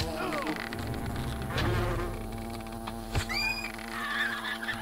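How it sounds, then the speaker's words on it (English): Wasps buzzing around a picnic area in the video game Fable, a small swarm of insect whines sweeping past over steady ambient game sound, with a few sharp hits and effects in between. "Kill all the wasps in the picnic area."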